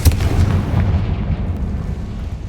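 A Confringo fire spell from Hogwarts Legacy bursts with a loud, deep booming blast, like heavy artillery, followed by a rumbling roar that slowly fades.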